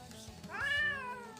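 A cat lets out one clear, rising then falling meow, close by and fairly soft, as it tries to grab the food.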